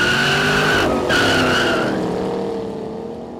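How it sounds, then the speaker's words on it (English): Tires squeal loudly and continuously as a 2013 Shelby GT500 or 2012 Camaro ZL1 slides around doing burnouts, the screech holding steady with a brief dip near the start before slowly fading, engine roar beneath it. "sliding around, doing burnouts."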